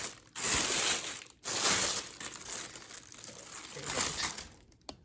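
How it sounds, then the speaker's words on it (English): A Samsung replacement ice maker is pulled out of its plastic bag, giving loud, close crinkling and rustling of plastic in bursts with brief pauses between. "then we're gonna take it out of the bag"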